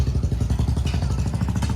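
A motorcycle engine runs close by in a narrow market lane in Nabha, Punjab, giving a loud, rapid, throbbing putter that stays steady through the short moment.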